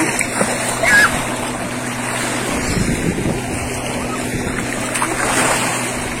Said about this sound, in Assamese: এই বটখন যাওয়ার লগে লগে চাব ঢৌ কিরকম মারে